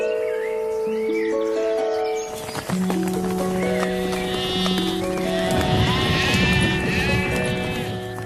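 Sheep bleat loudly and repeatedly over a steady background, with several wavering, overlapping calls, plus hoofbeats and a horse's whinny among farm animal sounds.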